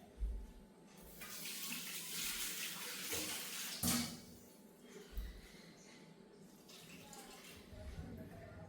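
Tap water runs steadily into a sink in a home kitchen, a broad continuous splashing stream that swells and eases, with a sharp knock of a vessel midway and faint background voices.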